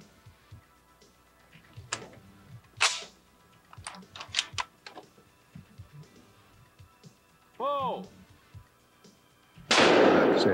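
Shotguns fire at sporting clays targets at a championship, heard as several sharp, scattered cracks, some close together, with a brief louder burst late on and a few quiet gaps between.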